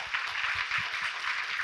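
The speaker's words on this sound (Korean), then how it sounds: "여러분 박수 부탁드립니다." Brief applause from a studio audience during a talk show, a short burst of dense clapping at moderate volume.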